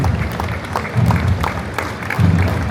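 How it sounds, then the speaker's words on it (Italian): Crowd applause for the civic banners at the 97th Alpini national parade, a steady outdoor wash of clapping with swells in loudness and no clear talk over it. "Li applaudiamo amici"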